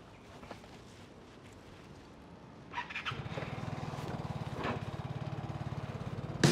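A Vespa motor scooter engine starts and settles into a steady, fairly close idle with a rhythmic putter, no talking over it.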